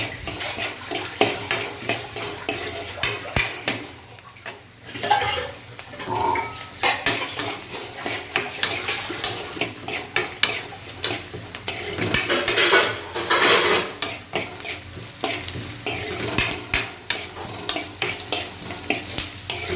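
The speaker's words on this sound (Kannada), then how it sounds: "ಈರುಳ್ಳಿ ಫ್ರೈ ಆಗಲಿ." Onions and chana dal frying in oil in a pan, stirred with a utensil: steady close sizzling with repeated scraping and clinking of metal against the pan, no talking.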